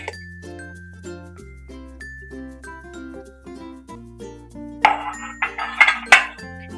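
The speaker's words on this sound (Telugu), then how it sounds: "ఇలా అయితే ఒక ప్లేట్ పెట్టేసుకుని వెనక వైపు తిప్పేసుకుందాం" A plate is set over a dish of coconut junnu and flipped, and several light ceramic clinks and taps sound near the end over soft background music.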